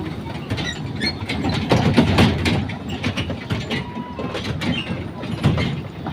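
Small children's park train with no passengers rolling along its track in a city park, a steady mechanical clatter and ratcheting rumble of moderate loudness with faint background voices.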